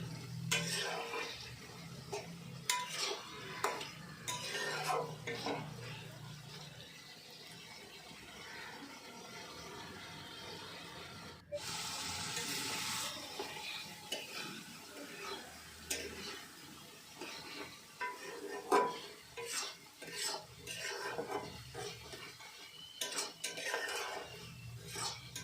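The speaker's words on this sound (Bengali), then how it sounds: "চিংড়ি মাছগুলো একটু ভালো করে প্রথমে কষিয়ে নিতে হবে, আর আমি এখন চিংড়ি মাছগুলো কষিয়ে নিব" Prawns with spices stir-fried in a pan for a banana-flower dish, with intermittent scraping and clinks of a spatula against the pan and a soft background sizzle throughout.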